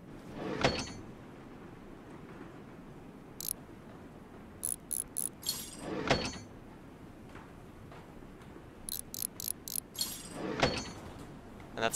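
Farm machinery being serviced in Farm Mechanic Simulator 2015 gives off a few sharp mechanical clunks as a belt is pulled free, with bursts of quick metallic ratcheting clicks between them, all over a steady low background hum.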